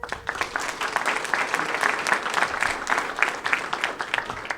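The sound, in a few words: audience round of applause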